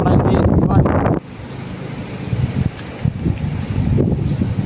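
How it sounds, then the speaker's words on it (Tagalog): Strong wind buffets the microphone with heavy, roaring gusts, loudest at the start, then continuing as a rushing blustery background. "Kasi pasalungat, malakas yung hangin"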